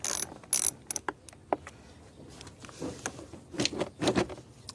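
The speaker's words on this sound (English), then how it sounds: "It's still a 10mm socket that you're going to need to get it off." A ratchet fitted with a 10mm socket loosens a bolt in the engine bay of a 2014 Kia Cadenza, making bursts of close, quick clicking with short pauses between strokes.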